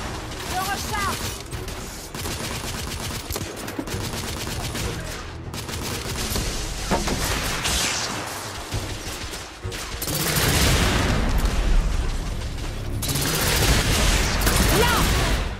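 Heavy gunfire in a battle from The Order: 1886 video game, with dense rolling volleys and sharp bursts that swell louder near the end while voices talk over the fighting.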